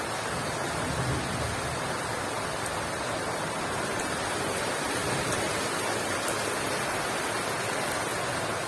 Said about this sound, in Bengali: দারুণ বৃষ্টি হচ্ছে। দারুণ মানে খুব সুন্দর বৃষ্টি হচ্ছে।